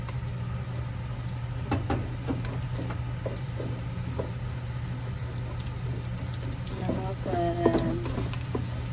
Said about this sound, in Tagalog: Kaya igigisa ko na yung bawang at saka sibuyas.